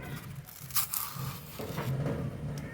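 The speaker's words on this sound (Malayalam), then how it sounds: "ഇതിൻ്റെ തോല് ഇങ്ങനെ ചെത്തി എടുക്കണം കേട്ടോ" A knife scrapes the peel off an elephant yam stem in a home kitchen, giving close, uneven rasping and crunching strokes with brief cracks, no talk.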